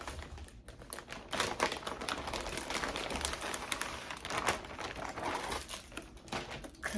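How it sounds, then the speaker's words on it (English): Plastic packaging around an Amazon headband wig crinkles and rustles close up, with continuous irregular crackling and small taps. "It comes in this plastic packaging."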